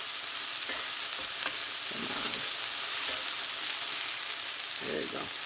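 Sesame chicken pieces fry in a pan with a dense, even sizzle close by, with a few soft clatters and bumps over the steady hiss.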